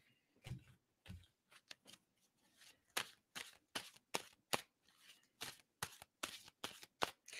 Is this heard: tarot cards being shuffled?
yes